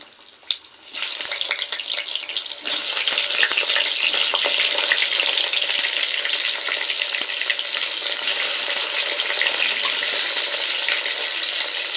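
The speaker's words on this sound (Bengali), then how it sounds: "এবার এই তেলেই আলুটাও ভেজে নিব" Potatoes frying in hot oil, in the same oil used for Katla fish for a Bengali fish curry, a steady close sizzle that jumps louder after a quiet start and hisses on continuously with small crackles.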